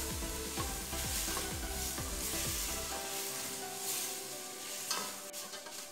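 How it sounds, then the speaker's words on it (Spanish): Diced peeled tomatoes frying in a pan, a steady close sizzle with a few scraping stirs near the start, no voices. "Sofreímos un par de minutos"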